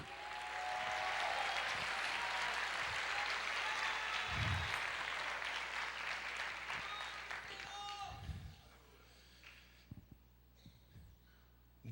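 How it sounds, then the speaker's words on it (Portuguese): Applause fills a church service, dense and sustained for most of the span under occasional voices, then thinning out toward the end. "Aplauda o Senhor, libere o júbilo"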